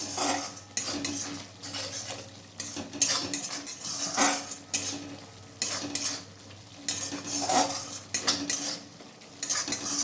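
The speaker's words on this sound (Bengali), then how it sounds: "দেখুন মশলাগুলো আমি আবার ভালোভাবে মিক্স করে নিচ্ছি।" Metal spoon scraping and clinking against a pan as spices are stirred and mixed for a Bengali cabbage curry, with rhythmic bursts of scraping over a faint sizzle, close and steady with no talking.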